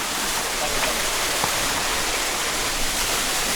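Steady, loud rush of a stream flowing near a village, a continuous close wash of water with no breaks and no talking over it.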